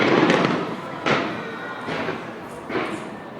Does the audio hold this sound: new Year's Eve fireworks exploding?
yes